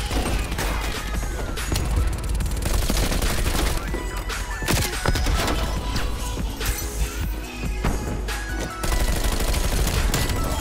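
Gunfire in Call of Duty Cold War with a Bullfrog SMG: dense, continuous bursts of automatic shots and impacts fill the whole stretch, loud and close, with crashes and clatter mixed into the battle noise.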